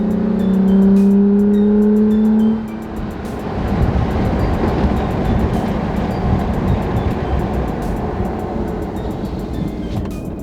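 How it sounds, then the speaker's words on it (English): A Toyota Tacoma pickup truck engine with a Holley cold air intake roars steadily, pitch climbing as it revs, with road noise filling the background; no one speaks. "you can definitely tell the difference as far as the sound of the engine"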